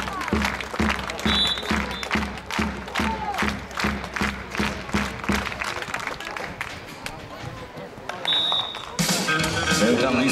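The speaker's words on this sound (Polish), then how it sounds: "A my wszyscy już klaszczymy, wszyscy klaszczą!" A crowd at a Silesia Open 2012 beach volleyball match, Poland against France, claps in a steady rhythmic unison, loud and close, while a commentator talks over it and the clapping breaks into louder cheering near the end.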